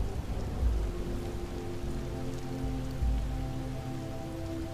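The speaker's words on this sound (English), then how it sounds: "Focus on the rain instead." Steady rain falls outside, pattering on the ground and on fabric overhead, a dense continuous hiss with a low rumble underneath and no voices.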